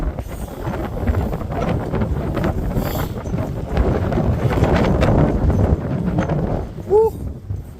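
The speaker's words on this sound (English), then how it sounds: "I'm sure you won't be able to hear me right now because it's very windy" On the Norfolk coast near Cromer Pier, heavy wind buffets the microphone with a loud, continuous rumble for the whole stretch, with a brief whistling tone near the end.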